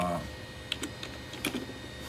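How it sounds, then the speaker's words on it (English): Keys tapped on a loosely placed computer keyboard attached to an older PC while Turbo C++ 3.0 is being set up. A few sparse, sharp clicks come in small clusters against a low room hum, with no talking. "I can't type here with the keyboard sitting off like this."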